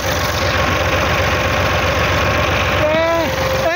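A Massey 135 tractor fitted with a Delphi pump idles close by with a steady, throbbing diesel knock, while a brief whistle-like tone rises near the end over the running engine.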